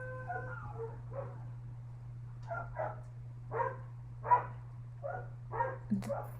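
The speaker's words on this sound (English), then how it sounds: "That's my neighbor's dog." A neighbour's dog barks in the distance, a series of separate yips and barks spaced a second or so apart, faint and outdoors against a steady low hum.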